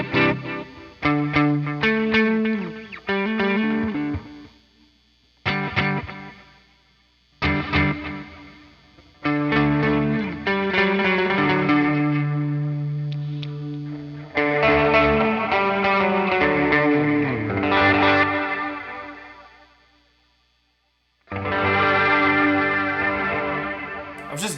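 Electric guitar played through a Jetpedals Red Sea stereo parallel FX splitter set fully to the reverb side, with strummed chords and single notes ringing out into long reverb tails and brief silences between phrases.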